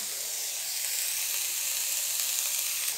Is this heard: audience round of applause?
no